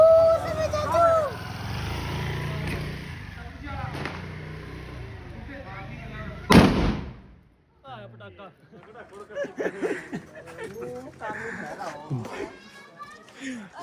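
Homemade desi firecrackers on Diwali: one sharp, loud blast cracks out at mid-clip, then the air falls nearly silent before chatter and excited voices of people nearby return.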